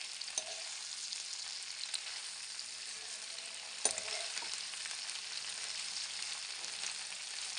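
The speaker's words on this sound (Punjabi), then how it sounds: "ਭਿੰਡੀ ਆਪਣੀ ਹਲਕੀ ਫਰਾਈ ਹੋ ਗਈ" Okra (bhindi) fries in oil, a gentle continuous hiss of bubbling oil with an occasional faint clink or knock, quiet and close.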